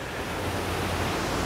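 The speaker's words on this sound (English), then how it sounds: "You might hear a little bit of water" Water pours over a river dam as a broad, steady roar of wash and rushing noise, constant and fairly loud, with no voices or other sounds.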